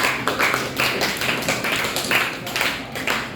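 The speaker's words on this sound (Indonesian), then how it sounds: "tepuk tangan buat Ezra." Classroom applause from a group of students during a local history lesson, a dense steady patter of many hands with slight rhythmic swells, filling the room throughout with no talk over it.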